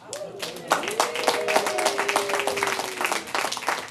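A stand-up comedy crowd breaks into applause, dense clapping swelling near and continuing under a brief cheer-like voice.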